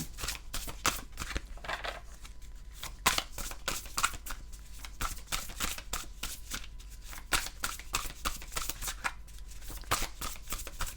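Oracle cards shuffled for a card reading, a steady run of soft riffling and flicking, close and quiet, continuing for several seconds with no voice.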